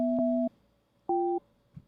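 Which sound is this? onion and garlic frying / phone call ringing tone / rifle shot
phone call ringing tone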